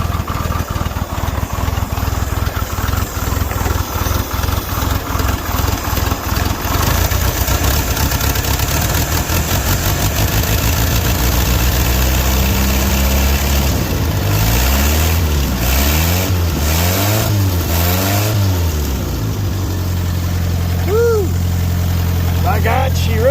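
A 1947 Willys Go Devil engine runs steadily after sitting unused for 12 to 15 years, its loud, close, rough idle chugging with some rev changes and people talking over it.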